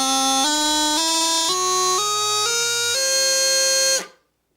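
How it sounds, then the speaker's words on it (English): A bagpipe chanter with its reed sharp on the upper notes plays a rising scale of sustained, buzzy, bright tones, stepping up note by note before stopping abruptly, loud and alone. "If the reed is sharp on the upper notes, it sounds like this."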